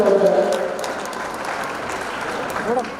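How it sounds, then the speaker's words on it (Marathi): Loud applause erupts from a crowd at a retirement ceremony for an army subedar in Sangamner, dense clapping sustained over the whole stretch, with a voice over a speaker at the start and end. "एकदा खणखणीत आणि जोरदार टाळ्या होत"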